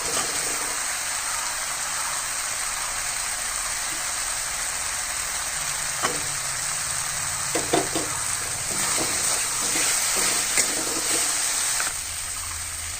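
Potatoes fry in a pan for a Bengali baan fish dish, giving a continuous loud sizzle with scattered scraping stirs toward the end.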